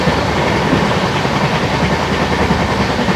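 A passenger train on the Hyderabad–Jaipur special, hauled by an ALCO diesel locomotive between Akola and Itarsi, gives a loud, steady rolling rumble with a faint rhythmic rattle of the carriages throughout.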